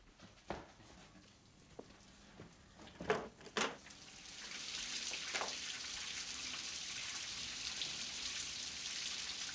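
Rain begins as a few scattered drops and taps, then builds into a steady, soft hiss of falling rain that carries on to the end.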